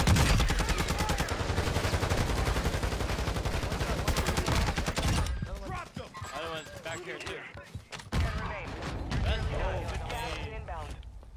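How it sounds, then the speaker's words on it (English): Rapid enemy gunfire in an online shooter game, a dense stream of automatic shots for about five seconds, then sparser bursts mixed with voices talking over the fight. "They're shooting at us."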